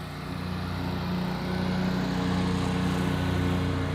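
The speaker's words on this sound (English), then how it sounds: "Let me let the mower go by real quick." A robot lawn mower on a wide-open acre-sized lawn drives past, a steady low motor whir holding at moderate level throughout with no voices.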